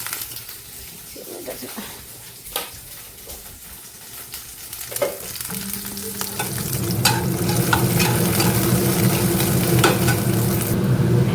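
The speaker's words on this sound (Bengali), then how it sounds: "এই যে এটা পেঁয়াজ দিয়ে দিয়েছি, রসুন ভাজছি" Garlic frying in a pan with onion, ginger and tomato, with a soft stir and light scraping at first, then a steady, louder sizzle building up close.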